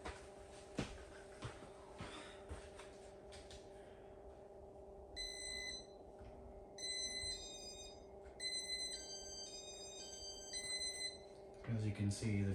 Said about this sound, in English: As you can see, the beeps are louder on this one.